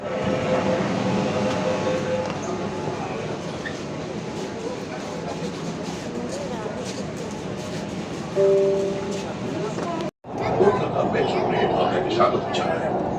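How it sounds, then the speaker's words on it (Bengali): A metro train pulls in at Howrah station with a steady rumbling roar and rising wheel noise, close and fairly loud, while people talk over it and a brief cut comes near the end. "পর পনেরো মিনিট পর এলো মেট্রো এবার উঠবো"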